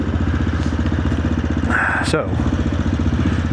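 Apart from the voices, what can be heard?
AJP PR7 motorcycle engine running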